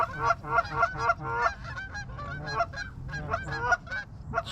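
Geese honking in flight during a September goose hunt in New York, a flock calling in repeated overlapping honks, fairly close and loud, with quiet background and no talk.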